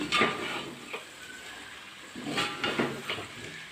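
Chicken thoran being stirred and fried in a pan, a soft sizzle under a few quick scraping strokes of a spoon, close by and with no talking.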